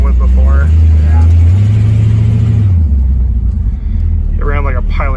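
Engine of a 1968 Pontiac Tempest heard from inside during a ride, a loud low rumble that swells as it revs and then eases off, with people talking over it.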